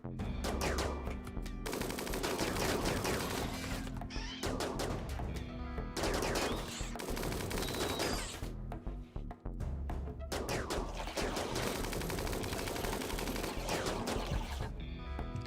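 Sustained gunfire in RimWorld: loud, dense bursts of rapid automatic shots rattle almost without pause, broken by a couple of brief gaps before the firing resumes.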